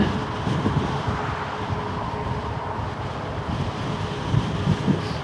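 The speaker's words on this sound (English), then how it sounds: "The wind is blowing pretty good now too, so if you hear a lot of wind, sorry about that." Strong wind buffets the microphone during a bike ride on a Wired Cruiser, giving a steady loud rumbling roar that runs through the whole stretch with no clear talk.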